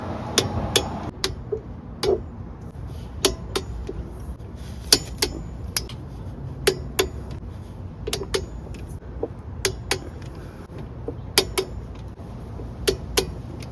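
Sharp metallic clicks and taps repeat irregularly while bolts on a Jeep TJ Dana 30/35 differential cover are threaded in and torqued to 25 foot-pounds, close and crisp over a low background rumble, with no voices.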